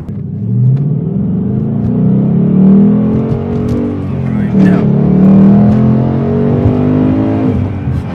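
Ford Mustang GT pulling away and accelerating on a cold day up to highway speed, a steady loud engine drone rising in pitch from inside the cabin, with the driver talking over it.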